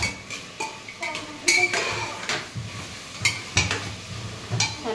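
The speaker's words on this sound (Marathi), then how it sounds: "छान परतून घ्यायचं आपण." Onion-tomato mix with masala being sautéed in a pan, a spoon scraping and clanking against the metal over a soft sizzle, close and moderately loud.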